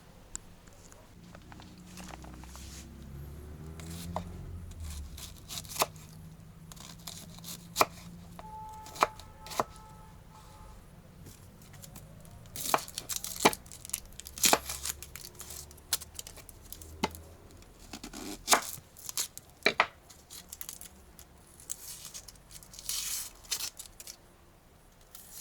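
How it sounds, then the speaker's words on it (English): Onions are chopped with a knife on a board, producing quiet, close, irregular taps and clicks that come in scattered bursts, busier toward the second half. "chop up the onions and chop up this and start cooking"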